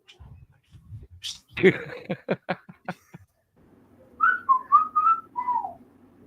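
A person whistles a short, wavering tune that sounds strained and breathy, after a few soft thuds and brief vocal noises.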